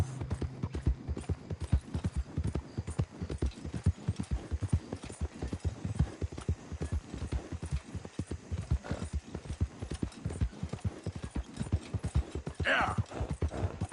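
Horse hooves clip-clop steadily in a rhythmic gait while riding in the video game Red Dead Redemption 2, loud and continuous, with a short whinny near the end and a voice speaking briefly.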